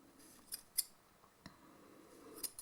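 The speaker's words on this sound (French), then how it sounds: "J'ai pris un plus gros ciseau. Donc là je viens couper." Large scissors slice through doubled cotton yarn pompoms with a few sharp, close snips spaced irregularly across a couple of seconds, quiet and free of talking.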